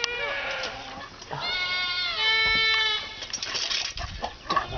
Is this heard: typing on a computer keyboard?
no